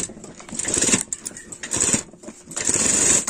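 A sewing machine stitches along the top side of a half collar in three bursts, each a close, whirring mechanical run that pauses briefly before starting again, with no talking.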